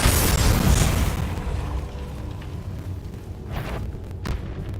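A Bombarda blasting-spell explosion in Hogwarts Legacy opens with a loud, booming blast that decays into a rumbling tail, followed by a couple of softer pops.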